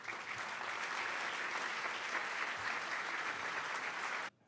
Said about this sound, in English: So would you give a big round of applause,